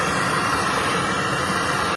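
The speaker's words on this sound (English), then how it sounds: "That is the oil pump, I think." A failing engine oil pump gives a steady, loud, broadband whir and hiss up close, unbroken for two seconds before cutting off abruptly.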